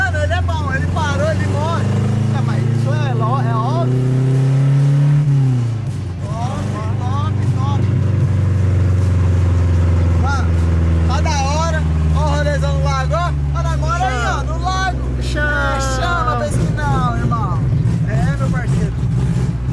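A Chevrolet Chevette engine revving, its low drone rising and falling in pitch through several throttle swells, loud and close while people talk and shout over it.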